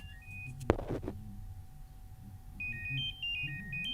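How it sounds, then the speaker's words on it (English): Technics AZ80 wireless earbuds play a locate alert: a run of high, stepped electronic beeps that starts partway through and repeats steadily, moderately loud over faint room noise, after a brief handling knock. "Okay, we hit emit sound."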